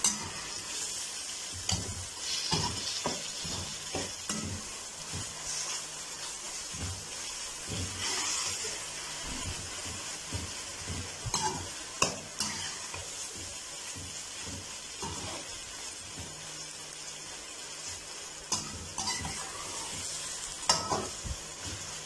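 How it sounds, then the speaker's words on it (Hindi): Mashed roasted brinjal masala is stirred in a pan, with repeated scraping and knocking strokes over a low sizzle that come at an uneven rhythm, close and fairly loud, with no voices. "बारबेक्यू हमारे बैंगन है वो डालेंगे, मैश किए हुए। अच्छी तरह मिक्स करेंगे।"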